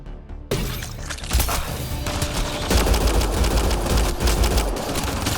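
Incendiary rounds fire in rapid automatic bursts during a Mass Effect Andromeda firefight, loud and continuous, with sharp cracks stacked over a dense rumbling bed and no voices.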